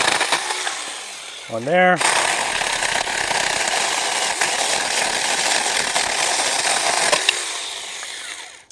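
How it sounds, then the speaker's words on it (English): Saker 4-inch 20V mini chainsaw cutting through a thick tree branch, a loud continuous buzzing whine after a short revving start, running steadily for several seconds before cutting off, close by with a brief spoken word. "So I'm going to go ahead and just cut this here."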